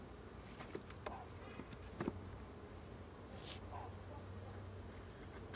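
A hybrid honeybee colony buzzing during a hive inspection, a faint steady drone with a few light knocks and frame clicks, and soft speech now and then.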